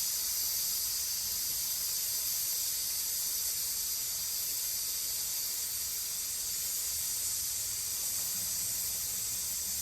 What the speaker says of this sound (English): Now we gotta let the steam bleed off.